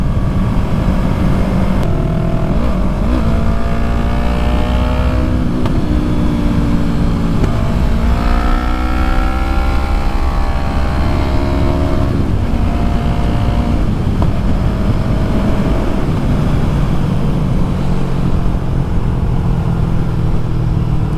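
Yamaha MT-03 motorcycle being ridden on the road, a loud continuous engine drone that rises and falls in pitch through shifts and throttle changes, mixed with heavy wind noise and no talking.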